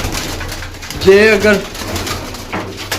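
Pigeons on a rooftop loft, a close soft cooing call rising and falling in the middle, with someone talking over and around it.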